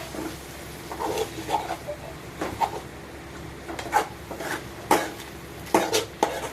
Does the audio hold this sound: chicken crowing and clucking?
no